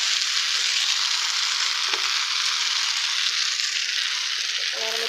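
Okra fries in hot oil in a pan with a steady, bright sizzle throughout, broken by a brief clatter of stirring, while a faint voice murmurs near the end.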